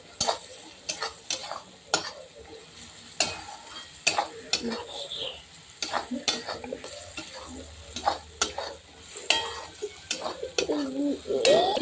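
Turmeric being stirred and sautéed in a pan for a dried-fish chutney: repeated scraping stir strokes in an irregular rhythm over a low sizzle, close and fairly loud.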